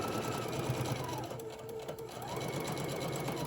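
Sewing machine stitching straight across a teddy bear body, a steady fast whirring hum with a brief slowdown midway, close and alone.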